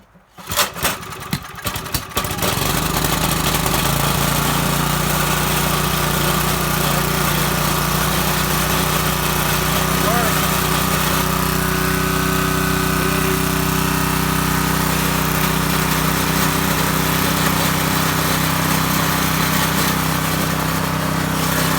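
An old abandoned generator engine cranks with a few rattling pulls, then catches and runs steadily, a loud close hum with a strong low drone.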